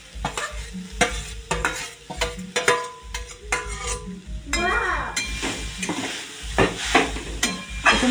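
Grated coconut stirred in a hot wok for a milk-rice sweet, with a continuous dry sizzle and frequent close scraping and clanking of the spoon against the pan.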